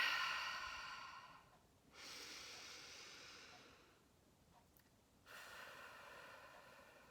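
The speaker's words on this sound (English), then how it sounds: "Take 2 deep breaths in and out." Slow, deep breaths drawn in and let out during a breathing exercise, two long airy exhales separated by quiet pauses, soft and close, with no talking.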